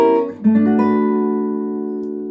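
A sustained chord moves smoothly into another with all voices in parallel motion, then rings out and slowly fades, loud and close with no talking.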